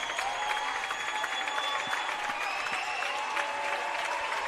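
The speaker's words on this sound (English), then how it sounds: "Crowd helping them out a little bit here." Dense, steady cheering and applause from a packed high school boys basketball gym crowd at Wayne versus Blackhawk Christian, loud and continuous with scattered sharp claps throughout.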